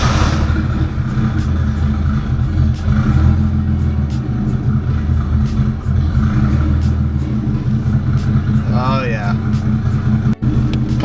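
A Nissan 240SX idles on a chilly morning right after a cold start, its engine a steady, loud rumble that holds even throughout with a brief dip near the end.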